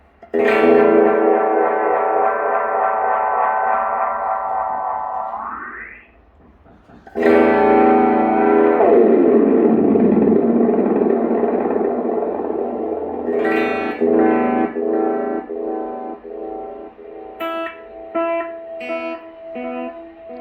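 Sustained guitar tones smeared by a warbling PT2399-based modulated delay, with repeats building into a rising feedback swell, then renewed notes echoing and decaying in the tail.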